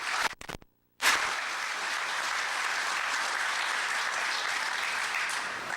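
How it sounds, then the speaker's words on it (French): An audience at an inauguration ceremony breaks into loud, sustained applause after a brief pause, the clapping dense and steady from start to finish. "En vous demandant de les applaudir"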